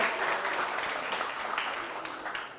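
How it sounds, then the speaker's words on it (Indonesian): A comedy open mic audience claps in a steady, dense wash of applause, the sound filling the room evenly without pause for a few seconds. "tepuk tangan untuk teman-teman semuanya yang ada di sini"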